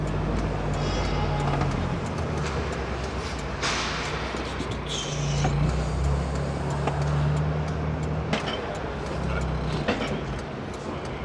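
A car drives slowly through busy traffic around the NEC, giving a steady low engine and road rumble with a tonal hum and occasional knocks and rattles.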